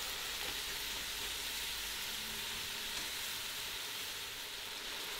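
Lobster shells fry in a hot pot with a steady, bright sizzle and crackle while being stirred, close up with no talk over it.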